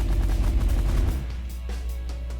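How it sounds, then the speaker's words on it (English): Minigun auto fire in The Last Federation, a loud continuous mechanical roar in the space strategy game with a heavy low rumble and a faint rapid patter above it, no voices. "Alright, minigun auto fire."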